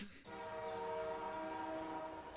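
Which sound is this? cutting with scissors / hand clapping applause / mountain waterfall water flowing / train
train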